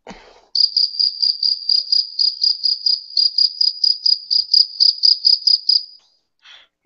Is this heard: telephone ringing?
no